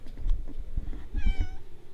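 A cat meows close by, a short rising-and-falling call following some rustling handling noise, with no talking over it.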